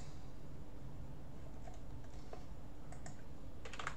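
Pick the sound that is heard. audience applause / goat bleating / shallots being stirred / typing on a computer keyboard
typing on a computer keyboard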